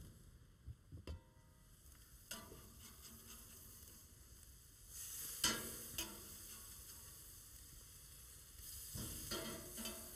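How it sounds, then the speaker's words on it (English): Swordfish sizzling on a grill alongside mussels and shrimp, a steady quiet crackle with sharper bursts around midway and again near the end as pieces are moved. "I think I'm ready to flip my swordfish now."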